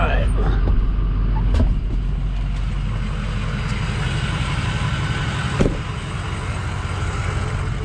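A 2007 Ford F550 diesel 4x4 Lariat pickup truck idles with a steady, deep exhaust rumble throughout, close and continuous, with a couple of brief clicks and knocks on top.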